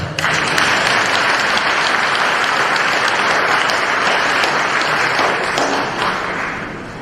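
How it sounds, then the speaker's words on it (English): Sustained applause from an audience at a memorial service, steady and dense throughout, loud and close, tapering slightly at the end. "It seems like you want to clap,"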